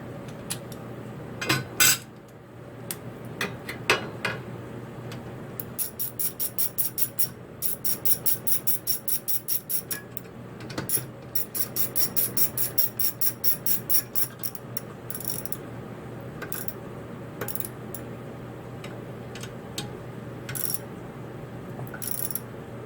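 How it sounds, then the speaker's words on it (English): A ratchet wrench clicks in rapid bursts, tightening the two motor mounting plate bolts on a Kenmore 80 Series washing machine, with pauses and metallic clinks between runs of close, crisp ratcheting. "It has 2 bolts that we're now going to tighten up"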